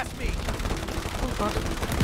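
Dense, continuous gunfire fills the scene as players shoot their way through enemies in It Takes Two, a rapid, cluttered volley of close shots with busy game noise throughout.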